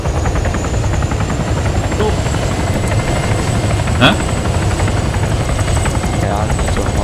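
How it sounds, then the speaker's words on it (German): Helicopter in the video game Arma 3, a loud, constant rotor and turbine drone filling the whole stretch, with a player's voice speaking briefly over it. "Ach, ich sehe hier einen Heli."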